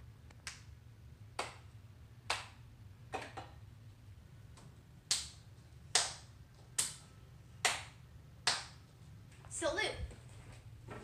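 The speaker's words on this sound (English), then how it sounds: "Slow clap." Slow, evenly spaced claps, about ten sharp hits roughly a second apart, performed as a real-life Fortnite dance emote, over a steady low background hum.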